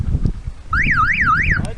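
A loud electronic car alarm warbles, its pitch sweeping up and down in a fast repeating pattern, close by with some wind noise.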